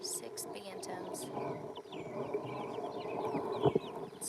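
Six bantam chickens cluck and chirp softly outdoors, with several brief calls scattered over a steady low background and a few nearby knocks, faint and without talk.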